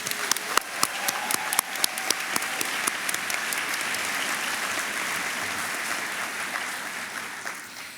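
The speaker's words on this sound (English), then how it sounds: "Can we give a round of applause for Melissa?" Sharp individual claps start things off, then swell into sustained applause from a sizable audience before tapering slightly at the end.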